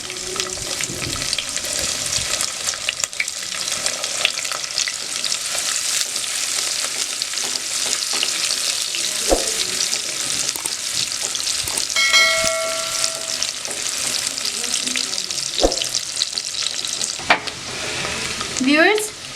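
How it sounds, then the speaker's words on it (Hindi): Onions fry with cumin in a pan, a continuous close sizzle broken by stirring scrapes and clinks, with a brief metallic ring partway through and no speech. "अब मैं इसमें प्याज डालूंगी।"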